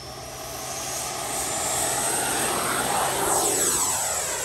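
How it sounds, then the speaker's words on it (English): A Freewing Avanti S V2 80mm EDF sport jet model takes off with a loud, steady ducted-fan whine that swells, then sweeps downward in pitch as it passes close by. "let's go ahead and get the Avanti V2 in the air and put it through some paces"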